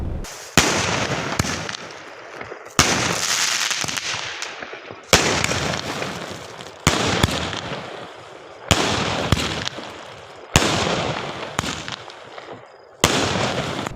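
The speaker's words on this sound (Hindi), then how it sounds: "पटाखों की आवाज़ें सुनाई देने लगी और धीरे धीरे सभी क्षेत्रों में आतिशबाजी शुरू हो गई" Diwali firecrackers and fireworks go off at night in a series of about seven sharp bursts, each trailed by crackling that fades over a couple of seconds. They come at roughly even intervals and sound fairly close and loud.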